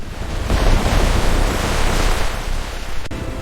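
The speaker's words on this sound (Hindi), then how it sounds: "सुबह अचानक तेज बारिश होने लगी।" Heavy rain suddenly starts falling in the morning, a steady, dense hiss of downpour that stays loud and even throughout, with no voices.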